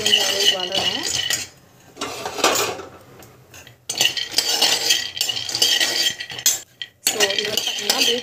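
Almonds are roasted in a pan while being stirred, with repeated rattling and metallic scraping in bursts separated by brief pauses, close and fairly loud.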